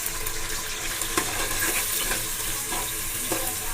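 Medium sliced onions fry in hot oil with cloves and cinnamon sticks for chicken dum biryani, giving a steady soft sizzle with faint scattered stirring clicks and no talking.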